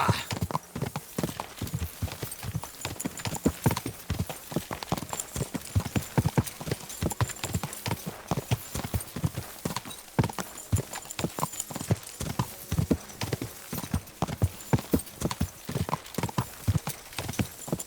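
Rapid rhythmic hoofbeats clatter continuously, a horse galloping at full speed in the video game Kingdom Come: Deliverance 2, close and steady, with an occasional whinny.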